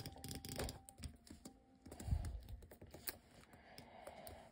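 Rapid, faint jitter clicking on a slow computer mouse while playing Bedwars comes as bursts of light plastic clicks in quick irregular runs, close and quiet.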